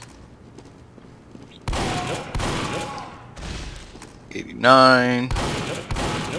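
Shotgun blasts ring out in a video game while playing as the Soldier class: several loud, sharp bursts come in quick succession amid game noise, with someone talking over parts of it.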